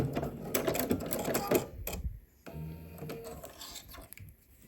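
A sewing machine sews a straight stitch on a Cashmerette Marblehead swimsuit in a quick close burst of rapid rattling, then slows to sparse clicks and light handling noises.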